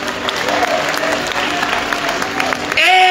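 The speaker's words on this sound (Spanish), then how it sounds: "Un fuerte aplauso para estos valientes de la" A church congregation applauds during a pastor's sermon, a sustained crowd clapping with voices underneath, ending in a louder burst of sound.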